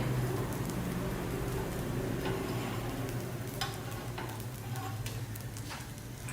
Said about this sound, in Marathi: हे छान भाजू दे, क्रिस्पी होऊ दे.